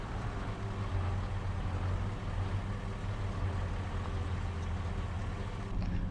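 A tractor engine idles in the Farming Simulator 25 video game, a steady low rumble with a constant drone that holds evenly throughout with no talk.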